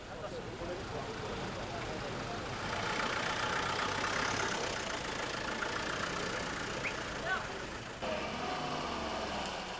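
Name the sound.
4x4 off-road rally vehicle engine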